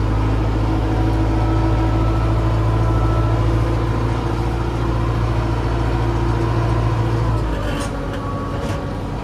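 An LS tractor runs steadily with a loud mid-pitched engine drone while grading soil with its blade on a farm, cutting contour lines; the tone shifts slightly and eases near the end.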